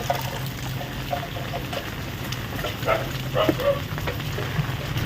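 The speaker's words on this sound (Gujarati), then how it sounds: "આવો કંઈક વરસાદ આવ્યો" Steady patter of rain on a shed's metal sheet roof in a village, with scattered drips and trickles, close by and continuous, with faint voices in the background.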